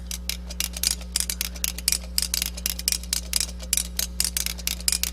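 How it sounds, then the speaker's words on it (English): Trumpet valves with loosened valve caps clack as they are fingered, giving a quick, even run of crisp mechanical clicks in close, steady rhythm over a low constant hum, with no playing or talk. "He taught me a trick by loosening my valve caps. It makes a lot of noise, and I can hear my fingers"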